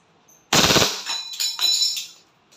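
A WE Glock 18C airsoft pistol fires one loud, rapid full-automatic burst, followed by a few shorter clattering bursts that trail off. No one speaks.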